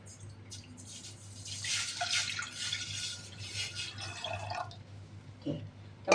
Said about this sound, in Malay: Kita masukkan air lebih kurang 500 ml.